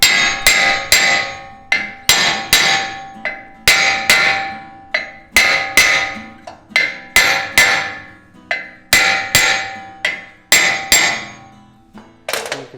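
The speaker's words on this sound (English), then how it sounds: "So I'm just gonna tap it right here because this is where it's rusted in." Sharp hammer blows strike a rust-seized front brake rotor on a Toyota 4Runner, landing in quick clusters of two or three ringing metallic impacts, loud and close, repeated steadily with short pauses between bursts.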